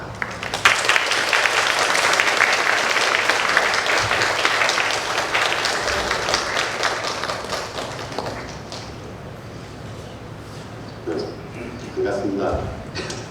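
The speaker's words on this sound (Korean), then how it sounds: "우리 올라오실 때 큰 박수로 환영해 주시면 감사하겠습니다." A church congregation applauds loudly to welcome missionaries coming up to speak, dense clapping fading after several seconds, with a voice rising near the end.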